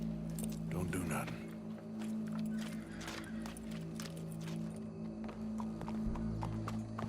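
Horse hooves clip-clop steadily in Red Dead Redemption 2, a continuous mid-distance rhythm over a low ambient hum and background chatter, with a brief whinny early on.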